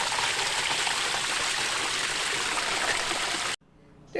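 Water gushes and splashes continuously as a pump fills a hot tub, a steady loud rushing that cuts off abruptly near the end.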